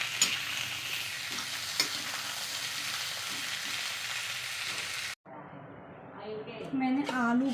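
A potato, cauliflower and tomato curry fries in a pan with a steady close sizzle and scraping stirs for several seconds, then the sound cuts off and a person starts talking.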